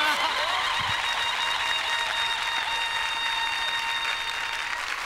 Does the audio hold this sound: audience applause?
yes